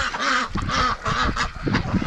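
Excited ducks in a pen quack loudly and repeatedly, a close chorus of overlapping nasal calls that carries on without a break.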